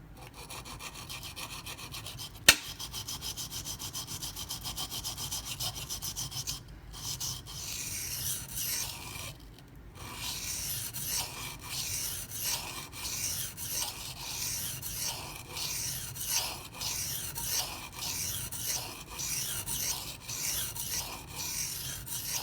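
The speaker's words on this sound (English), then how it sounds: "I just love how these silicon carbide stones work. They just cut so doggone fast." A Zero Tolerance 0393 knife with a CPM-20CV steel blade stroked across silicon carbide sharpening stones, making a rhythmic gritty rasp of repeated strokes, with one sharp click early on and a brief pause partway through.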